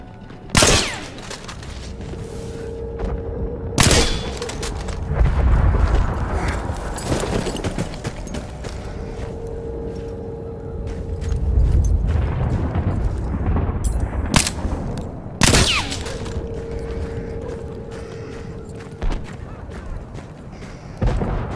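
Heavy artillery shelling and gunfire in the World War I shooter Battlefield 1, with sharp blasts cracking out every few seconds over a steady rumbling battlefield din and bursts of distant rifle fire.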